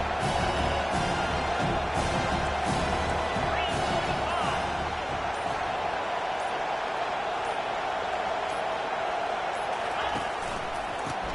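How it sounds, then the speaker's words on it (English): A football stadium crowd roars steadily for the defense on third down, a loud, dense wall of cheering that holds throughout with no break. "Decibels rising as the crowd gets behind this defense on third down"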